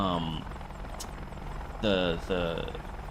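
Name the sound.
Apache AH-64D helicopter in video game DCS World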